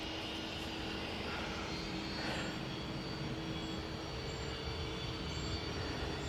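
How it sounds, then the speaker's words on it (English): A Cessna Citation CJ12 business jet departs Manchester Airport for Dusseldorf, a steady, fairly faint engine roar with a faint steady whine, holding level throughout with no voices. "some bizjet action for you now, in the shape of this Cessna Citation CJ12 off to Dusseldorf"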